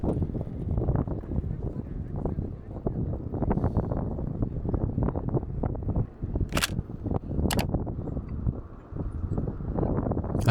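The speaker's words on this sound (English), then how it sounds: "Really windy still." Strong wind batters the microphone in heavy, rumbling gusts that rise and fall on a street in Amsterdam, broken by a couple of brief sharp clicks.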